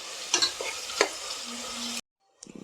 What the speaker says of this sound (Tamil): இந்த பிரியாணி பண்ணும்போது வெங்காயம் வந்து நல்லா பொன்னிறமாக வரணும் அந்தளவு வந்து நல்லா வதக்கிக்கணும்